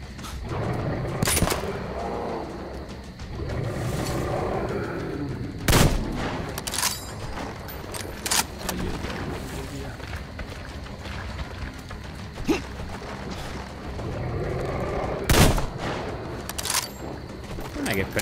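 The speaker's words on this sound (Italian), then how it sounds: "Abbiamo i colpi esplosivi, proviamo un po'." Gun loaded with explosive rounds firing in the post-apocalyptic shooter Metro Exodus: sharp, scattered bursts and bangs spread across the span, with someone talking over much of the shooting.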